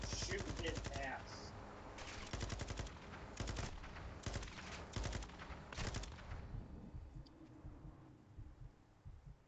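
Rapid automatic gunfire in the Call of Duty Modern Warfare 2 campaign, dense bursts of loud shots for about six seconds, then fading into quieter game ambience, with voices talking underneath.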